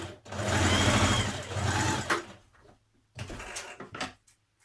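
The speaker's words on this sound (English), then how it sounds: "With the right sides together of your sleeve, you're going to stitch the underarm here." A sewing machine stitches the underarm seam of a sleeve, running in a close, steady hum for about two seconds, then fading to quiet before two shorter bursts of stitching follow.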